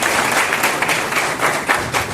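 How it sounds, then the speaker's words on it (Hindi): An audience claps and applauds steadily throughout at a public event marking a good-governance march, a dense sustained wash of hand claps at moderate loudness with no voice on top. "उसके लिए एक जोरदार ताली बजाएं"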